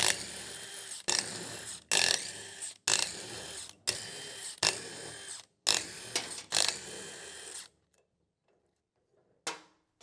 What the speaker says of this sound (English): taking the ring gear off the old differential carrier and plopping it right on there